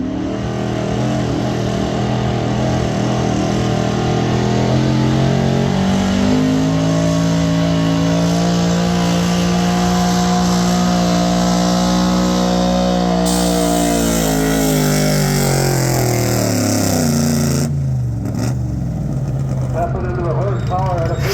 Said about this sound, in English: that old Ford broke the tires loose